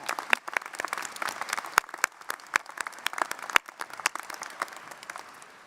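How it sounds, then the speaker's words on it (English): An audience at a Rutgers–Camden business school graduation ceremony claps steadily, a dense crowd of scattered sharp hand claps at moderate distance. "So big round of applause to all the faculty and staff."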